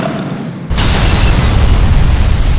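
Weapons fire from a military vessel in a GTA IV television show erupts suddenly into a loud, sustained explosive roar that holds steady to the end after a brief quieter lead-in.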